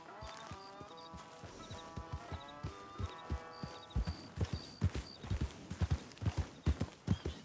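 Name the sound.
horse hooves clip-clopping in a video game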